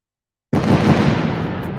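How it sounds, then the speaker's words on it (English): A sudden loud blast after half a second of silence, followed by a sustained rumbling roar of cannon and arquebus gunfire that stays loud to the end. "With loud roars, the cannons and arquebuses soon fired directly."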